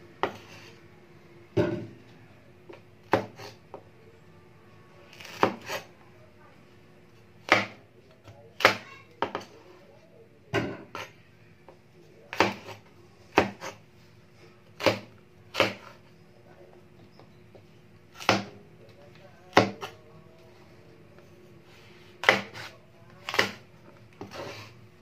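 A knife slices okra thinly on a cutting board while preparing Ilonggo laswa, giving crisp, irregular chops roughly once or twice a second, close and clear over a faint background hum.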